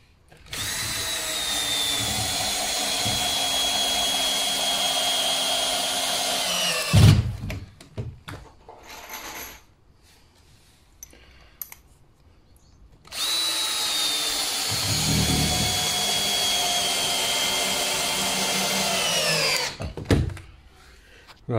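A power drill drives coach screws into timber framing for a bay window and French door build, two long sustained loud whirring runs with a rising pitch, separated by a quieter pause of small knocks and handling noises.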